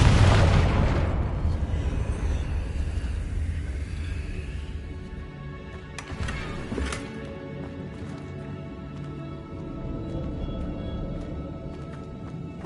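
A Confringo blasting spell explodes in the video game Hogwarts Legacy: a loud, close boom at the start that rolls off over several seconds, followed by a second smaller blast and crackling debris.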